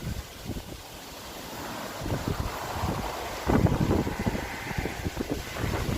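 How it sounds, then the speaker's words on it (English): Wind buffets a microphone outdoors in autumn, steady and fairly loud, with bursts of rustling dry leaves and broadband gusting that swell after a few seconds. "You'll be getting lots of wind noise now, or rustling leaves."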